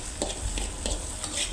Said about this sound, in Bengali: এখন থেকে ভালো করে নেড়ে চেড়ে মাখিয়ে নেব।